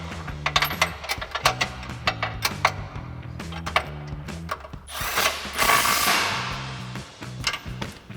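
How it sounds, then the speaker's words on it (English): A ratchet tightens bolts on the front bumper of a 2019-2024 RAM 2500 during a fog light install. It gives quick, rhythmic metallic clicks in repeated bursts, close and fairly quiet. "Hold that in place, and we can tighten down the rest of our hardware."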